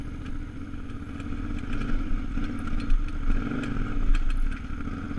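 A KTM 950 Adventure motorcycle, ridden without luggage on the Fins and Things off-road trail in Moab, Utah, gives a continuous loud engine rumble with rising throttle surges and clattering over rough ground, close and with no talk.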